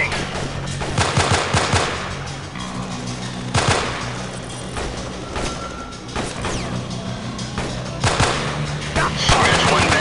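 Rapid automatic gunfire and scattered shots from the Delta Force: Black Hawk Down video game, Shattered Palace mission, loud bursts repeating throughout with a radio-style voice talking underneath.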